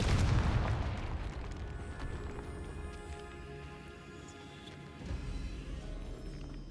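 A Confringo fire spell from Hogwarts Legacy bursts with a loud, deep boom at the start, then a sustained rumbling roar and crackle that fades slightly before swelling again near the end.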